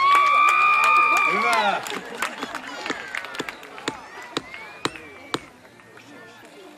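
Scattered crowd clapping and cheering at a medieval horse tournament in Hollola follows a loud shout, sharp separate claps ringing out outdoors and fading toward the end.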